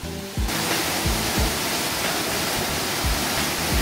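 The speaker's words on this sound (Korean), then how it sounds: "아, 여기는 희방폭포입니다" Water from the 28 m Huibang waterfall in Sobaeksan's Huibang valley pours down steadily, a loud, close, continuous broadband roar with no pauses.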